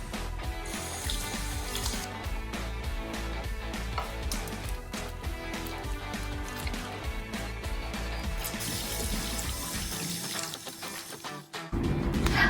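Hands washed with homemade liquid hand wash under a running tap, a steady splashing stream of water that continues throughout, with a brief change in the flow near the end.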